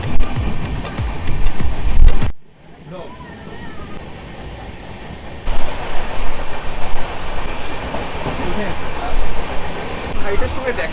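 A passenger train on the Kolkata to Deoghar route runs at speed with a loud, rumbling roar that drops briefly, then resumes a rattling, rhythmic clatter.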